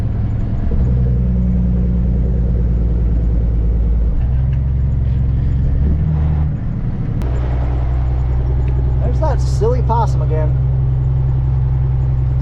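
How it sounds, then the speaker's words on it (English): A truck engine rumbles loudly and steadily on the road, low drone shifting pitch a few times as it drives, with people talking over it partway through. "This truck's got some power. I can feel it."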